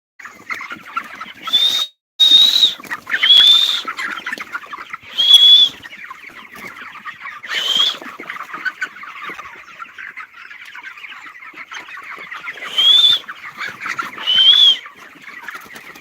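Chickens on a poultry farm cluck and call in repeated loud bursts, with short pauses between them and a steady hum of flock noise underneath.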